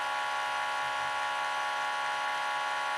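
Small axial pulse motor with four coils and four neodymium magnets spinning above 4,100 rpm, a steady high-pitched whine and buzz, close and unbroken.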